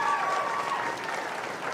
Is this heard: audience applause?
yes